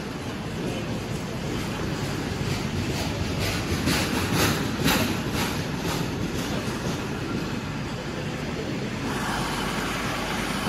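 An East Midlands Railway Class 222 diesel unit runs at Nottingham station, bound for Lincoln. Its steady, loud rumble carries rhythmic rail clatter and persists throughout, with no voices.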